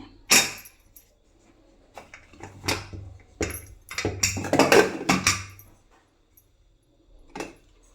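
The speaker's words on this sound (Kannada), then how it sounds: "ಕುಕ್ಕರ್ ಕ್ಯಾಪನ್ನು ಓಪನ್ ಮಾಡ್ಕೋಬೇಕಾಗುತ್ತೆ." Pressure cooker lid being opened after one whistle while field beans cook: a series of sharp metallic clanks and rattles, several close bursts with quiet gaps between them.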